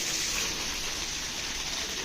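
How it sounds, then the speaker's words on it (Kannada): Heavy rain falls steadily outside during a monsoon-season home stay, a dense, even hiss with no breaks and no voices. "ಫುಲ್ಲು ಮಳೆ ಬರ್ತಾ ಇದೆ"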